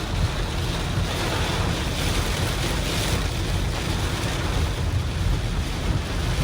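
Steady, loud roar of strong wind and heavy rain buffeting a Kia Syros car close by, a dense unbroken wash of noise with no voices.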